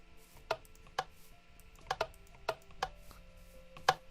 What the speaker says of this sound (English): found all the ones that had that click noise